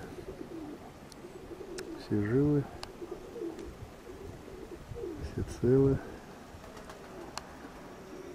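Domestic pigeons give two short, rolling coos a few seconds apart, near and fairly loud over a quiet outdoor background on a frosty day by the loft; a person speaks briefly.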